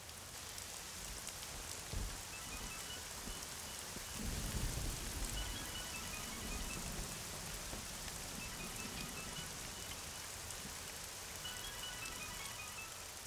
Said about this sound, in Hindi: यहाँ बहुत बारिश हो रही है